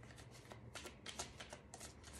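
A deck of cards shuffled during a spiritual card reading, soft rapid riffling bursts over a couple of seconds, close but fairly quiet, with no voice over it.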